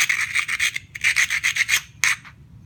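A stone flake edge is ground by hand while flintknapping, a series of close, rhythmic raspy scrapes in quick strokes with brief pauses between bursts.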